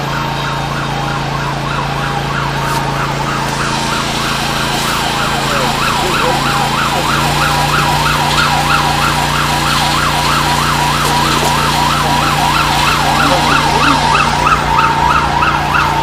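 Sirens from rescue trucks and ambulances arriving at a fire drill in a Korean folk village wail continuously for the whole stretch, rising and falling in a steady rhythm over a low engine rumble, with no talking.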